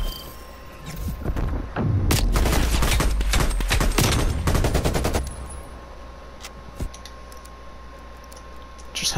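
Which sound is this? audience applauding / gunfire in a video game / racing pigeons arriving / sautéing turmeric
gunfire in a video game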